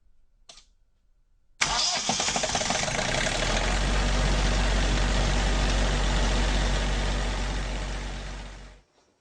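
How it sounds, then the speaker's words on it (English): A generator in a home power room starts at the flip of a switch: a short click, then a sudden loud engine roar that settles into a steady, close drone before cutting off. "I am capable of flipping the switch, and this thing just starts right up and gives us all the power that we need."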